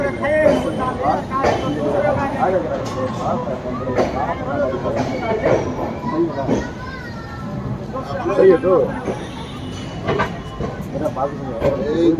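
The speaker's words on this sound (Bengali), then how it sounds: "হাওড়া স্টেশন ছেড়ে যাচ্ছে।" A train pulls out of Howrah station aboard the Howrah–Radhikapur Kulik Express with new LHB coaches, a continuous rumble and rail noise running beneath nearby voices chatting throughout.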